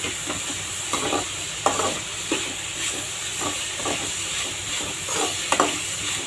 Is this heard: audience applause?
no